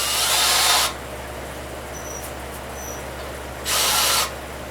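A power tool chamfers a head bolt stud, letting out two short, loud whirring bursts, one at the start and one near the end, with quieter shop background between them.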